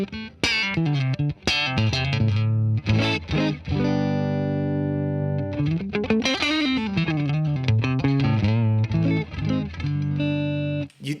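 A clean electric guitar with single-coil pickup through an RB1011 MKII preamp into a Deluxe Reverb amp plays single notes and sustained chords, fairly loud and ringing, with slight breakup and pitch bends, no voices.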